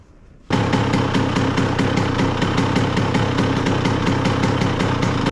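A Honda CR125R two-stroke dirt bike fitted with a TX race kit fires up and idles loudly and close by, with a rapid, even pulsing beat that runs steadily without speech.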